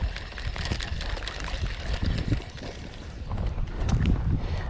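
Steady outdoor wind buffeting a microphone beside a river while steelhead fishing, broad rushing noise that swells and eases throughout, no talking.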